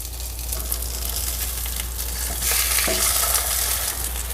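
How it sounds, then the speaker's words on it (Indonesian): Asparagus simmering in clear soto broth gives a steady hiss and bubbling with a low hum underneath, continuous and close, growing a little louder halfway through, with no speech. "Ini untuk merebus asparagusnya cukup direbus tok."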